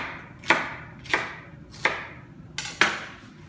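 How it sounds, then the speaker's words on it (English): Rainbow chard being coarsely chopped with a knife on a board, four crisp separate cuts with short pauses between them, close and clear with no voices. "You chop it coarsely, it doesn't have to be finely chopped."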